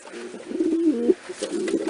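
Pigeons coo in a repeated low, throaty burble at close range, the rolling calls running almost continuously with a brief pause midway.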